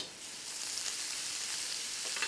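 Finely sliced big onions with spices fry in coconut oil for sundal, producing a steady, close, hissing sizzle with a faint stir near the end and no voices.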